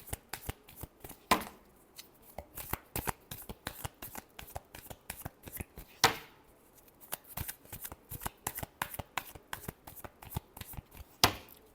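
Tarot cards are shuffled by hand in a quiet room, a steady run of soft, rapid riffles and taps with a few sharper slaps standing out, and no voice over it.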